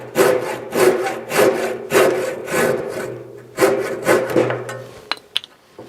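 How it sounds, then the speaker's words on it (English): A handsaw cuts through wood while finishing a shed-building cut, its strokes rasping in a steady rhythm of about seven loud, close pushes, then pausing before a few light knocks at the end. "Then you can get your handsaw"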